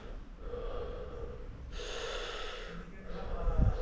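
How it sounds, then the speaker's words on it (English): Deep relaxation breathing drawn from the diaphragm and then the chest, a slow audible inhale swelling into a loud, breathy rush before easing off, with a voice speaking over it. "So you start with relaxation breathing, which is like from your diaphragm and then your chest"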